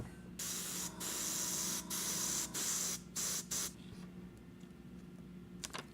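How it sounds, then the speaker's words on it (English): Several bursts of spray paint hissing from a can while spraying a checker pattern, each a second or so long with short pauses between, then quiet with faint handling noises. "we're spraying the alternate pattern on the next row"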